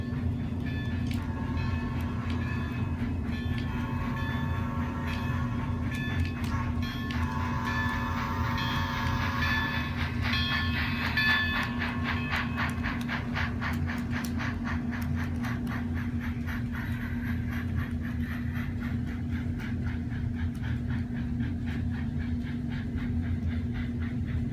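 A model railway grade-crossing bell dings rhythmically over a steady rumbling Bachmann Spectrum 4-4-0 model locomotive passing close by, the clatter continuing as the chiming fades.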